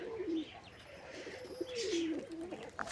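Pigeons coo in low, rolling, throaty calls, one drawn-out coo followed by another, close by, with faint chirps and a soft outdoor background.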